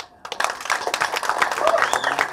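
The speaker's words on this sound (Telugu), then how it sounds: "ఇప్పుడు ఈ చప్పట్లు కొడితే వినపడుతుంది" An audience at a movie teaser launch event claps in a dense, rising round of applause that starts abruptly after a brief pause and keeps building to the end.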